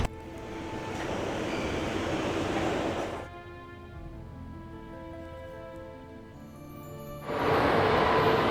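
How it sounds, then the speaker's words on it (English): Subway train ride in the Nancy Drew: Secret of the Scarlet Hand video game: a loud rushing rumble of the moving train, then a calmer stretch with steady tonal hum, before the roaring rush returns at the end. "So I like in this game we get to go on the subway."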